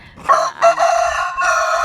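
A rooster gives a loud, close cock-a-doodle-doo crow, one drawn-out call standing alone without any talk.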